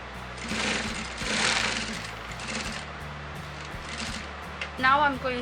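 A sewing machine stitches lace neckline pieces together, the front and back panels of a party-wear half collar, in a steady close-up run with brief pauses, while someone speaks over it.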